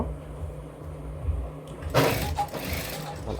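A sewing machine stitches a palazzo salwar, a soft low hum that bursts into a rapid, close mechanical whir about halfway through.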